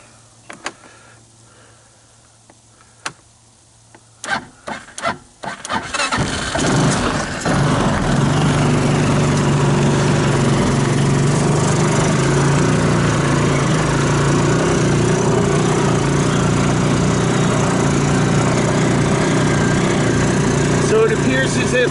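A Linhai Big Horn 400 UTV is started in low gear: a few scattered clicks and cranking bursts, then the engine catches and settles into a loud, steady, buzzy idle that runs on to the end.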